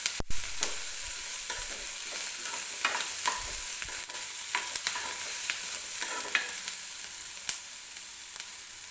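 Onion fries in oil as it is stirred, a constant sizzle broken by sharp spatula scrapes and taps against the pan at irregular intervals, close and clear with no talking.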